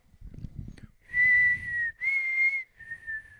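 A person whistles a few sustained notes, starting after a brief breathy rustle, with short pauses between the clear, bright tones.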